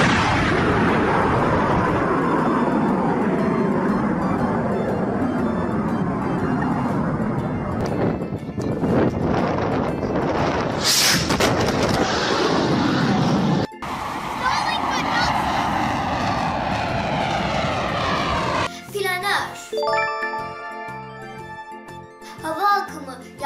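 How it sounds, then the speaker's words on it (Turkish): Fighter jet (warplane) roaring loudly and steadily for several seconds with a sweeping pass-by quality, then a rougher rush of noise, ending with music. "Savaş uçağının sesini şöyledir."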